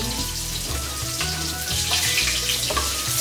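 Shallots and garlic stir-frying together in reused hot oil for an Indonesian rainbow vegetable dish, a dense, steady crackling sizzle close up, with occasional spatula scrapes and shifts in intensity.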